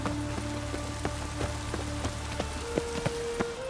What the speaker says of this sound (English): Lots of fuss over lots of rain.